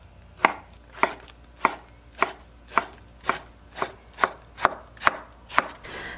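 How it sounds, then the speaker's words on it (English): A knife chops peeled eggplant on a cutting board in eleven evenly spaced, crisp strikes, steady and close, each a sharp knock on the board with no voices. "I'm going to place this onto a cutting board and just cut it into smaller bite-sized pieces"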